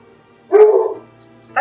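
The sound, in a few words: dog barking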